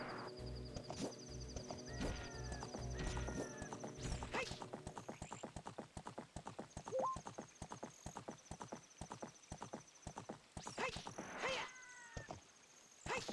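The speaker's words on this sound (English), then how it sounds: "Epona is so unruly in this game." Horse galloping in the Zelda Ocarina of Time video game, rapid rhythmic hoofbeats running throughout with a few whinnies and neighs, plus bright game chimes and effects.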